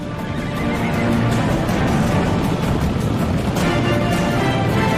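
Wild mustangs on the North American plains neigh and whinny repeatedly over a steady, dense wash of hoofbeats and herd noise, loud and continuous throughout.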